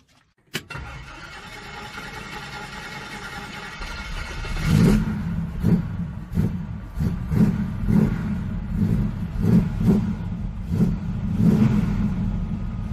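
A 1966 Chevelle Malibu with a 327 V8 cranks and fires, settling into a rough idle before a series of repeated throttle blips that rise and fall, loud and close with no talk.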